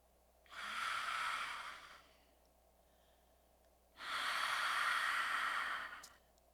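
A human voice imitates the sigh of a small dog such as a Chihuahua or Pomeranian. Two bright, breathy exhales, each a couple of seconds long, are heard close and faint, with a pause between them.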